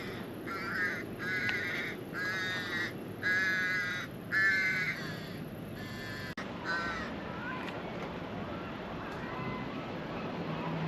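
Crows in a parking lot give a run of about six rhythmic caws in quick succession, fairly near, then a couple of fainter calls over steady background noise.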